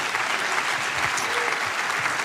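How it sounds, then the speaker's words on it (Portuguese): A church congregation at a renewal conference applauds after a call to praise, dense sustained clapping from a large crowd, loud and even across the whole stretch without speech over it. "Pode aplaudir o Senhor pela vida dele."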